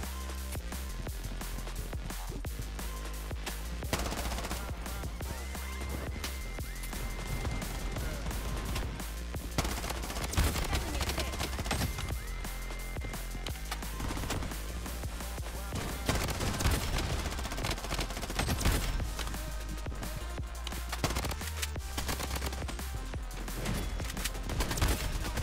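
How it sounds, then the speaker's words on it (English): Gunfire fills a match in the shooter video game Bloodstrike, with loud, nonstop bursts of automatic fire and scattered single shots layered over a continuous low rumble. "Who's shooting me?"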